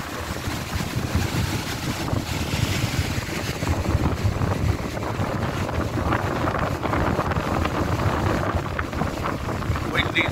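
Strong wind on a beach in Puerto Rico buffets the microphone in a constant, rumbling roar, with waves and faint background sounds underneath.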